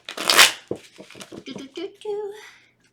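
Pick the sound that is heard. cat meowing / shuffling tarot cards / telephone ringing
shuffling tarot cards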